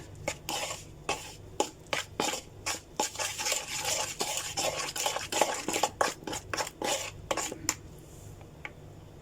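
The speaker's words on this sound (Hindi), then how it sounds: "तो ये सारा इसमें हम ऐड कर देंगे। इसे अच्छे से मिक्स करना है।" Chaat masala being mixed into a tandoori chicken marinade in a bowl: close, irregular clicks and scrapes of a spoon against the bowl, steady throughout with no talking.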